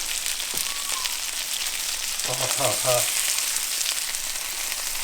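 Fish sizzles loudly in a hot pan right after being flipped, a dense continuous crackle and hiss with a brief voice heard partway through.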